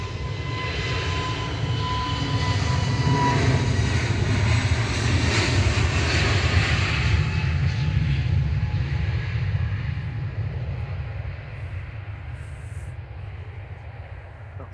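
An Airbus A321neo jet departs Manchester Airport on a winter day after de-icing, its engines giving a steady, loud, broad roar that holds level throughout and eases slightly toward the end.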